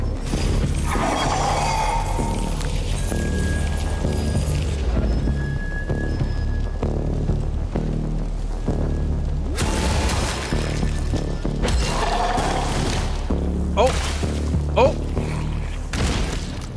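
Explosions in the video game Atomic Heart: several loud booms and shattering crashes over steady droning game noise, with a voice talking throughout.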